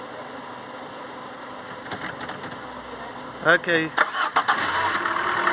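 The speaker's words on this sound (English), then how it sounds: "do you want to check it's not in gear and start it for me" A car engine cranks with a new starter motor during a slow-crank test, with a whirring crank and a rapid stuttering burst before it catches, while people speak briefly nearby.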